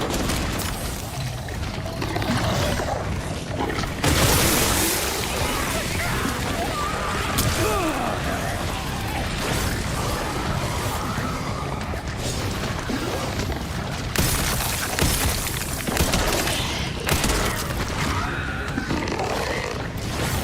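Explosions in the video game Resident Evil 9 come as heavy blasts amid loud continuous combat noise with crashes and gunfire-like bursts, and a voice is faintly present.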